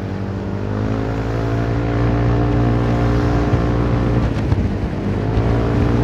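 A Honda Forza 350 scooter with a custom 35 mm exhaust accelerating, its engine drone steadily rising in pitch and loudness, close and continuous with no talk.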